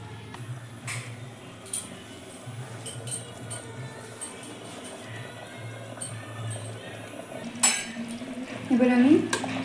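A pressure cooker holding Bengali mutton curry is opened, and metal clinks and knocks against the pot come in scattered, moderately close taps over a low kitchen hum, with a louder clatter near the end.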